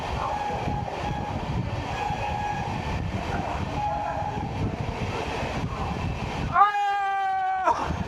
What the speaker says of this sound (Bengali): বৃষ্টির মধ্যে ছুটে চলেছে গঙ্গাসাগর এক্সপ্রেস জয়নগরের দিকে